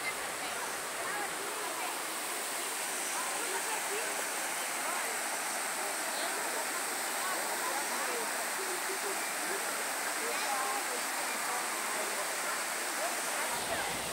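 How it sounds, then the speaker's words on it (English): Cascatinha Taunay Waterfall in Tijuca National Park, Rio de Janeiro, roars as a dense, unbroken wash of falling water, loud and close, with no pauses. "the Cascatinha Taunay Waterfall, the highest waterfall of Tijuca National Park."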